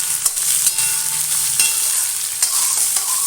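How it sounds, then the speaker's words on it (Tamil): Onions and green chillies sauté in a hot pan, a continuous close sizzle broken by a few sharp scrapes and clicks of stirring. "வெங்காயம், இப்போ இதை வதக்கிக்கலாம்."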